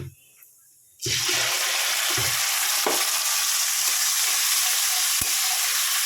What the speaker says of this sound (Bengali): এবার মশলাটা দিয়ে দিলাম